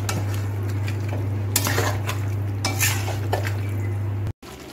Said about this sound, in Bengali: এখন রসুন আর আদা পেস্টটা ভালো করে মিশিয়ে কষিয়ে নিচ্ছি ভালো করে।